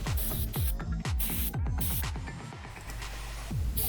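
An aerosol can sprays a white Ford Diamond White base coat onto a PC case in short hissing bursts, about a half-dozen quick passes close to the microphone.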